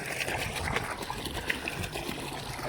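Steady flowing water trickles and splashes close by, an even rushing texture with no break.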